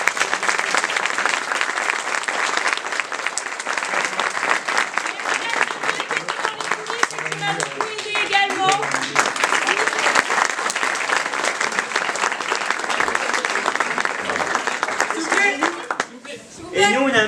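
An audience at a school theatre performance by première-year students applauds loudly and continuously, a dense sustained clapping crowd with scattered voices and shouts mixed in, tapering briefly near the end before swelling again.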